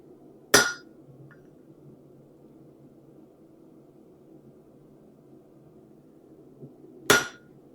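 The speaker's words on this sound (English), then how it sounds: "We're turning it after every hammer blow." Two sharp ringing hammer blows on hot steel while forging a raising hammer, about six seconds apart over a low background hum.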